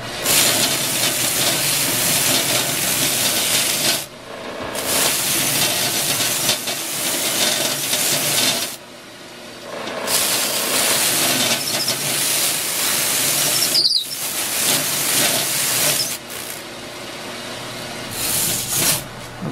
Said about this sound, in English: I'm going to take our letters and run them over this mop sander and smooth